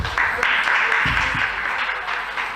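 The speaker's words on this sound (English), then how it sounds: "A round of applause for them." A crowd at a school debate competition applauds steadily, a dense wash of clapping that carries on throughout, with a few low thumps underneath.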